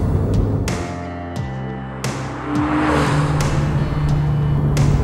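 A Porsche 911 drives on twisty mountain roads, its engine revving and dropping through gear changes with sharp shift transients, then settling into a loud sustained drone, heard close from the car.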